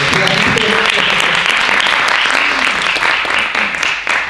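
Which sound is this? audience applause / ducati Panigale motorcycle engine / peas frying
audience applause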